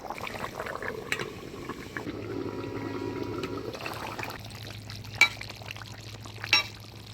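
Katla fish curry with new potatoes and tomato simmering under a lid in a pot, giving a steady low bubbling burble with a couple of brief sharp clicks near the end.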